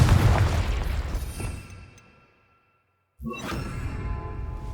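A fiery Confringo spell blast in Hogwarts Legacy, a rumbling boom that fades into near silence before a second sharp burst of explosive noise hits.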